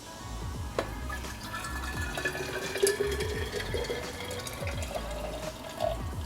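Boiling water poured into an Asobu insulated water bottle: a steady, close trickle and gurgle of liquid filling the vessel, rising gently in pitch as it fills, with faint background clatter.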